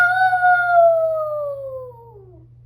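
Cartoon characters imitate wolves with one long, loud, clear voiced howl that starts high and slides slowly downward before fading out.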